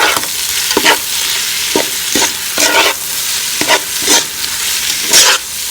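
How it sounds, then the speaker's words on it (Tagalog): Pre-boiled tender beef sautéed in a pan before broth is added, a steady sizzle with repeated scraping stirs of a utensil in an irregular rhythm, close and clear. "At igigisa na po muna natin bago natin ilagay yung sabaw."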